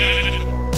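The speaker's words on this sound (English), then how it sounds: "I see a wolf attacking some sheep." A single sheep bleat from Minecraft with the Thaumcraft mod, a loud, close, wavering tonal cry lasting under a second.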